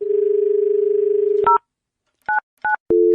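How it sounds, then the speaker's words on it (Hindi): A telephone handset gives a steady dial tone, then several short DTMF keypad beeps are pressed one after another with gaps, ending in a held double tone, close and clear with no talking. "तो उन्हीं को फोन मिलाने जा रहे हैं"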